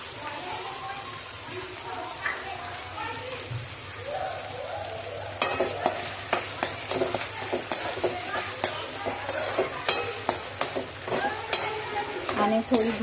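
Onions sautéing in a pan for pav bhaji give a quiet sizzle, while a voice speaks over the first half; then a run of sharp spatula scrapes and taps against the pan takes over.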